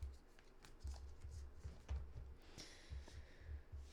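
Soft, repeated riffling and tapping of tarot cards being shuffled close by, quiet and irregular, with no talking.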